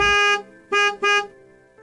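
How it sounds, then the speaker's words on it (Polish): Car horns sound a cheerful little tune: one long toot, then two short bright toots in a bouncy rhythm, loud and clear, with no talk. "wszyscy zaczęli klaksonami grać wesołą melodię"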